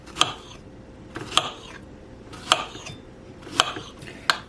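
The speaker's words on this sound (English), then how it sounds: "my plantain is going to be down, and I'm going to cut it like 1 inch to 2 inches" Knife chopping a plantain into 1 to 2 inch pieces on a cutting board, five sharp knocks spaced about a second apart, close and clear with a quiet kitchen background.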